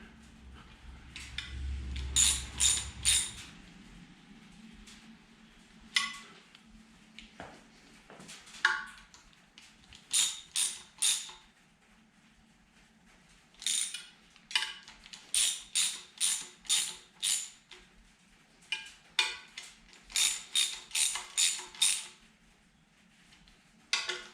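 A ratchet clicks in repeated bursts of quick pawl ticks while bolts on a front cover of a Small Block Chevy engine are snugged and turned, close and crisp with short pauses between strokes.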